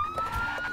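A police siren in the Minecraft video game wails steadily and fairly loud throughout, with its pitch holding at one level in the brief moment.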